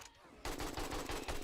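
Rapid automatic gunfire in 7 Days to Die with big ammo, a loud close burst of evenly spaced shots starting abruptly and hammering steadily to the end.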